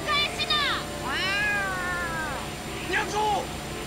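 A cat meows in the video game Yakuza 7, giving three or four drawn-out, wavering cries close up over a steady game background hum.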